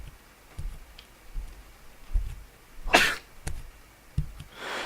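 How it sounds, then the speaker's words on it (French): A man coughs once in the horror game Ib, a sharp sudden burst over a quiet, sparse background of faint ticks and thumps. "Je viens me taper un jumpscare sur le mec qui a toussé là"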